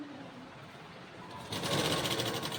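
A sewing machine stitches a firm seam on fabric piping. After a quiet stretch it starts up and runs as a fast, steady, close buzzing rattle.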